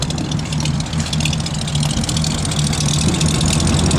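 A 1939 Ford Deluxe Coupe engine idles with a loud, steady low rumble close by, a continuous running tone with no pauses.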